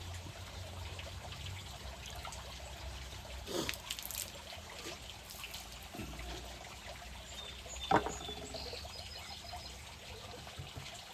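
Pool water test tubes rinsed under running water, a soft continuous trickle with a few brief splashes and clinks, fairly close but quiet.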